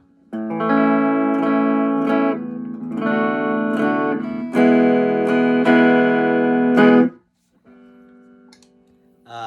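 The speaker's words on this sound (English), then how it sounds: "So this is the neck pickup." An Epiphone ES-355 on its neck pickup is played clean through a small Vox AC4 amp, ringing chords strummed in several sustained bursts before a brief pause and a softer final note.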